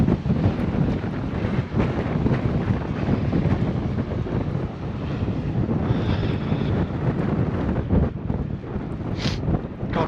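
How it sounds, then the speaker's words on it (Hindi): Strong, gusty wind roars across an exposed microphone outdoors in bad rainy weather, a steady heavy rush with buffeting bursts lasting throughout, no voices. "बहुत तेज हवा चल रही है।"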